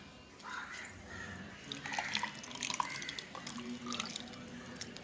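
Water poured into ground Indian gooseberry (amla) paste for juice, a soft, steady trickle and splash, close and faint with no talking.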